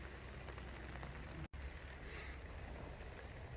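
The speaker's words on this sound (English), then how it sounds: "Rain's picking up a little bit out there" Rain falling outdoors on a windy garden day, a dense constant patter and hiss with one momentary dropout midway.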